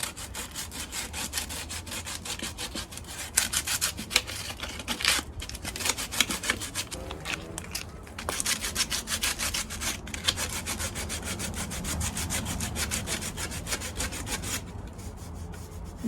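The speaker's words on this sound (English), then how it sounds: "I'm using just some regular sandpaper, 60 grit, to try to get this smoothed out" Hand sanding a wooden rocking chair with 60 grit sandpaper, a steady close rasping scrub in continuous back-and-forth strokes that runs almost unbroken throughout, with no talking.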